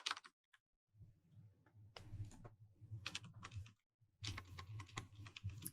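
Quick bursts of typing on a computer keyboard clatter up close, several runs of rapid key clicks separated by short pauses.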